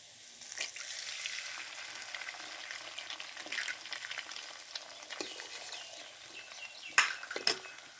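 Egg sizzling and frying in a pan while chowmein is cooked, a quiet steady crackle with occasional clinks of a utensil against the pan, no talking.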